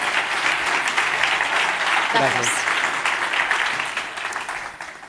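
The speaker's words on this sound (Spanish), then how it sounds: "Un fuerte aplauso para los 3, por favor." Loud, dense audience applause at a panel discussion, a steady roar of clapping that fades out near the end, while a voice briefly speaks over it.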